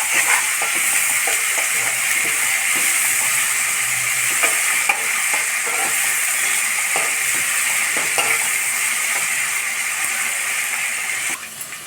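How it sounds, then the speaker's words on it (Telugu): Ginger garlic paste fries in a pan for gongura chicken, giving a loud, close, steady sizzle with light stirring scrapes that runs throughout and fades slightly at the end, with no voices. "పచ్చివాసన పోయేంత వరకు మగ్గించాలండి అల్లం వెల్లుల్లి పేస్ట్"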